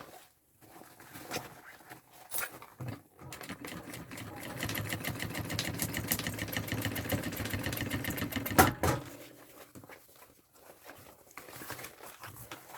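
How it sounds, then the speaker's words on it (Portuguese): Sewing machine stitching a thermal backpack, topstitching a seam that joins lining to outer fabric; a steady rapid mechanical chatter runs for several seconds mid-clip, with brief pauses and soft handling noises before and after. "eu vou costurar rebatendo essa costura"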